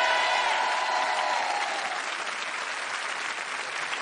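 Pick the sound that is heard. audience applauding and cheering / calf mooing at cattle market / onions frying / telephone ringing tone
audience applauding and cheering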